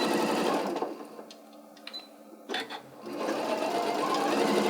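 Sewing machine stitching a band onto a Santa hat at a half-inch seam allowance with a back tack, a steady mechanical whir running loud, easing off briefly in the middle, then resuming.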